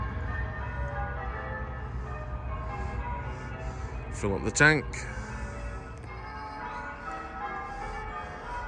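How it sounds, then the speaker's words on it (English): Church bells ring in a short cluster of a few strikes at moderate distance, heard beside a canal boat filling its water tank at a water point, under a voice and steady background rumble. "listen to the church bells"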